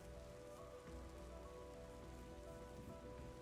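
Rain falls steadily in the video game Terra Nil, a soft, even wash of drops pattering on surfaces at low volume, continuous throughout with no voices.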